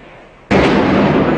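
A festive fireworks salute bursts abruptly after a brief quiet moment, a loud, close blast that rolls into a sustained crackling rumble.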